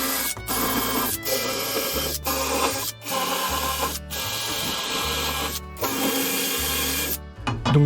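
A power drill pre-drills holes for shutter hinge hardware, running in steady bursts of several seconds each separated by brief stops, loud and close with no talking.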